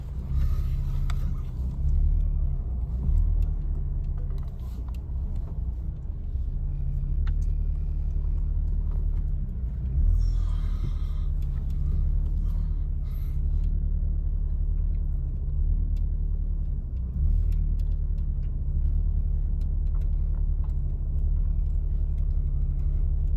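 A car drives and turns on a road, its engine giving a steady, close, low rumble that continues throughout with only slight swells and no voices.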